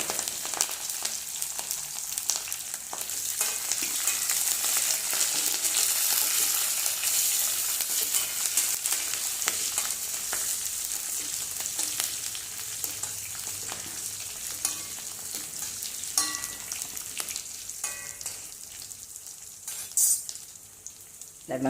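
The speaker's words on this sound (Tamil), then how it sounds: "இந்த பச்சை மிளகு நறுக்கி வச்சுருக்கோம்ல அதையும் போடணும்." Green chillies go into hot oil with mustard seeds, fennel, dried red chilli and curry leaves, making a steady hissing sizzle with crackling pops as the pan is stirred for a South Indian banana stem poriyal.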